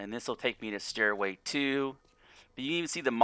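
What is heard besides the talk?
No distinct noise like a dog, phone or traffic.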